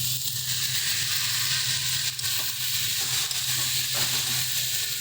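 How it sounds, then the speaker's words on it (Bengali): Chopped tomato and fried prawns are mixed into mixed vegetables in a hot pan, making a dense continuous hiss and sizzle with soft crunchy stirring under it. "সমস্ত কিছু দিয়ে ভালোভাবে মিশিয়ে নিচ্ছি।"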